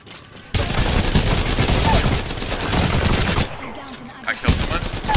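Rapid automatic gunfire in Call of Duty Warzone, a sustained loud burst of shots that runs for several seconds, drops briefly, then returns as scattered single cracks near the end.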